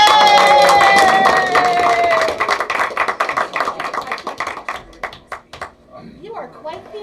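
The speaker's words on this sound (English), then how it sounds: "now the clapping" Audience clapping at a meeting: a dense burst of applause that thins into scattered separate claps, with voices talking over the start.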